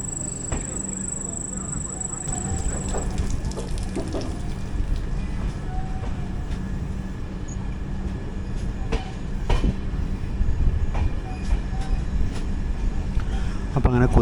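The Mangala Lakshadweep Express runs on the Konkan Railway, giving a constant loud rumble with clattering wheel and rail sounds and periodic knocks heard from on board.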